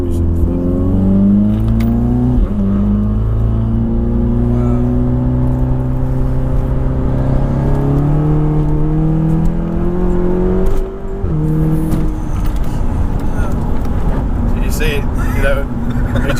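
A 600 BHP all-wheel-drive Seat Cupra accelerates hard on a bouncy back road, its engine note climbing through several gears with brief dips at each shift, loud from inside the cabin, with people talking over it.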